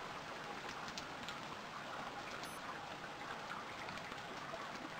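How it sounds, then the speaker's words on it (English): Rain falling in the survival video game Stranded Deep, a soft, even hiss of drops with a few faint ticks, steady and quiet throughout with no voices. "The rain's really annoying because you can hardly see anything"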